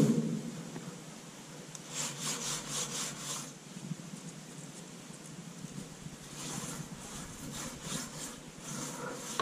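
A brush scrubs shiny black creosote inside a chimney flue in quiet rhythmic scraping strokes, grouped in a burst near the start and another near the end.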